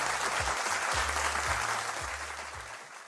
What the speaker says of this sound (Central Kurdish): هاوڕێن چەپڵەکانتان زۆر باشە